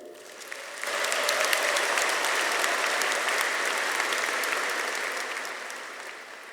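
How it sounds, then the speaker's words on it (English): A graduation crowd claps for their families in a broad, even ovation that swells in quickly, holds strong, and tapers slightly toward the end, with no speech on top. "I'd like to ask all of you to give a brief round of applause for your family"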